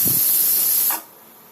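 A pressure cooker, with chopped mango, jackfruit and banana cooking in half a cup of water, releasing steam in a loud forceful hiss that stops abruptly after about a second, leaving quiet.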